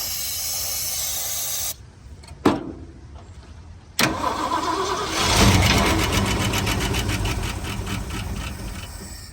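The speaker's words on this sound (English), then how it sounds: "See if we can get her to fire up for us." A 1970 Ford Bronco, unstarted for eight years and fed from a can with the ignition bypassed, cranks with sharp clicks, then catches and fires into a loud, rough idling rumble with fast rhythmic engine pulses.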